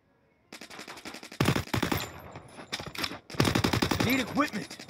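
Fast, loud MP5 submachine gun bursts in the mobile shooter Free Fire, sharp rattling strings of shots that stop and restart, close up, with someone talking over parts of the firing.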